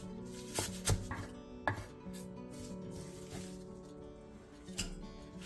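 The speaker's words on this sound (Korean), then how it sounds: "달래를 2cm 정도 길이로 잘라주세요." A knife chopping wild chives (dallae) into short pieces on a cutting board, producing several quiet, irregular thuds over soft background music.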